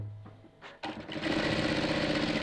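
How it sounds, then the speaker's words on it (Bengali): A sewing machine stitching a round-neck front-button nighty, starting after a brief pause and then running in a steady, loud, close whir. "আচ্ছা এই ধরলাম, ধরে আমরা সেলাই টানবো।"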